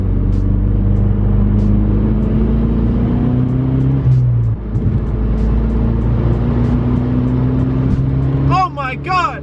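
Turbocharged car with a new cold air intake and turbo inlet pipe accelerating in third gear, a loud droning engine note climbing steadily from inside the cabin, with an excited voice briefly over it near the end.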